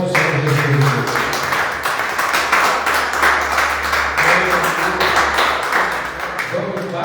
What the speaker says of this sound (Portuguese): Aplauda bem forte o Senhor Jesus.